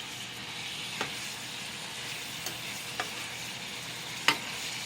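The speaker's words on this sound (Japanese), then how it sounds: "仕上げにごま油をほんの少々かけて混ぜます。" Daikon and beef tendon Chinese-style stew being stirred after a little sesame oil is added, a steady soft sizzle with a few light utensil clicks against the pot.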